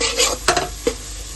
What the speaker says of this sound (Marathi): चांगला मसाला भाजून घ्यायचा आपल्याला.